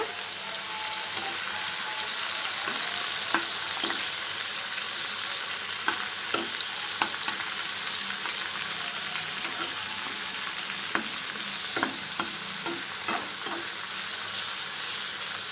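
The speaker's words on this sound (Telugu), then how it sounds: "ఇలా కాసేపు వేగాలి వేగితే తర్వాత దింపేద్దాం" Green chilies and cucumber pieces fry in a pan with a continuous, even sizzle, scattered with small crackles and pops throughout.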